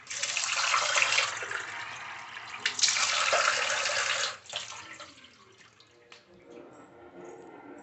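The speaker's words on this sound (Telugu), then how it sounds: "సో తులసి చెట్టు దగ్గర కూడా నీళ్ళు పోసేసి వస్తే అయిపోద్ది." Water splashes and pours steadily onto a tulsi plant at home, a dense broadband rush for about four seconds before it thins into softer trickles and drips.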